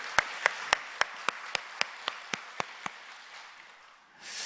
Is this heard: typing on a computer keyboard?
no